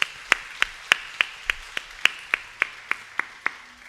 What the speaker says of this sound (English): please give a round of applause to Sri C.K.